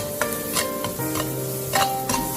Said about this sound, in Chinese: 把大蒜、小米辣、豆豉放入锅中，再快速的翻炒，将它们炒香